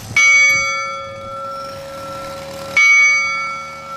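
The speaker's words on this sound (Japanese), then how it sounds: "鐘を鳴らしておきます。" The bell at Lovers' Cape (Koibito Misaki) in Niigata, Japan, struck twice, the strokes about two and a half seconds apart: loud, resonant clangs with long ringing decay, heard outdoors with no talk.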